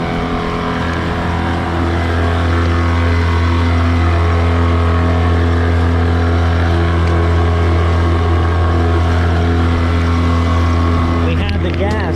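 A 9.9 horsepower Mercury outboard motor pushing a large boat drones loudly and steadily for the whole stretch, a close, constant engine hum with strong low harmonics, while someone talks over it.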